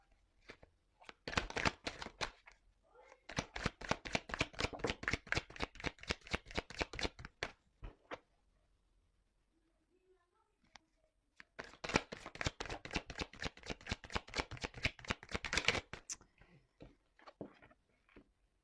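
Tarot cards being cut and riffle-shuffled by hand in two long bursts of dense, crisp clicking separated by a quiet pause, close and fairly loud, with no talking.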